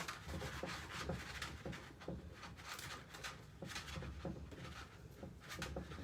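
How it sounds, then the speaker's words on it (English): A floral transfer being rubbed onto a wooden bookshelf makes soft, continuous scratchy rubbing strokes, close and quiet, with no talking. "I'm rubbing and pulling now."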